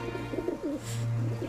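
An injured bird, apparently a dove or pigeon, gives soft, rounded coos close by in a short rhythmic series over a steady low hum.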